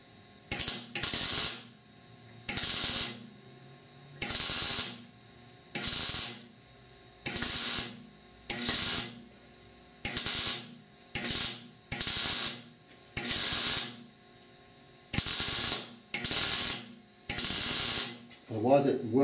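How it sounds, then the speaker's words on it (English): A MIG welder stitch welds a patch onto a severely rusted core support of a 1969 Chevrolet C10 in short bursts, each about a second long, of loud crackling buzz separated by brief quiet gaps and repeated steadily. "I'm still stitch welding though to keep them burning through."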